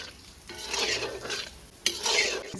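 Gulab jamun made from instant mix frying in hot oil while a ladle stirs them, giving a steady soft sizzle with scraping swirls and a sharp metallic tap near the end, close and alone.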